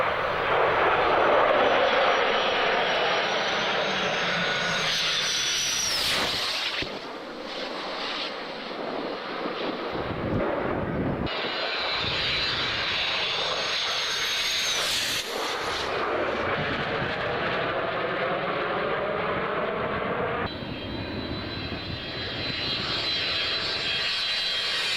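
A Royal Australian Air Force F-111 jet flies past at a D-Day 50th commemoration, its engine a loud, sustained roar with sweeping tonal whines that swell, fade and return over several passes, and no one speaks.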